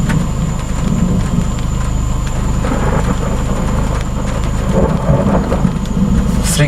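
Heavy thunder rumbles during a summer thunderstorm in Florida, a deep continuous roll with steady rain drumming around it, loud and unbroken throughout, heard from a stopped car with no one speaking.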